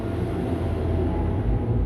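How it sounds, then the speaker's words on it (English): A noisy tractor passes close by, giving a steady, loud low rumble with a coarse mechanical drone and no voices. "Noisy tractor."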